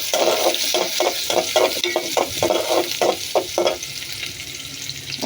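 Garlic frying in a pan for a tomato dish, a loud close sizzle pulsing in a rapid rhythm of stirring strokes, then settling into a steadier hiss.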